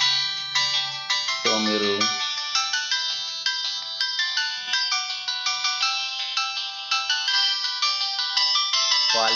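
A mobile phone plays a melodic ringtone on its speaker during a phone repair and servicing check. The tune is loud and close and repeats steadily, with a brief spoken remark near the start.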